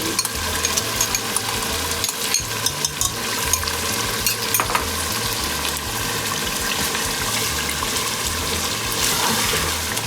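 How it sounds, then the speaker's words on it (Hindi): Yogurt stirred into a chickpea and chicken gravy that sizzles in the pan, giving a continuous loud frying hiss with wet stirring and scraping, no voice over it. "हमें ग्रेवी गाढ़ी करने के लिए अब मैं इस टाइम दही ऐड कर दूँगी।"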